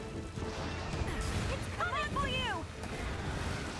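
A Monster Hunter Rise: Sunbreak explosion bursts into a rumbling, crashing roar that lingers, with brief whistling tones partway through, all fairly quiet overall.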